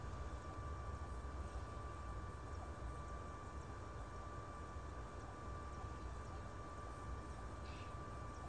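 An ICE T train in Train Simulator runs over the new tracks between Leipzig and Dresden with a faint, steady rolling rumble and hiss, unbroken and even throughout.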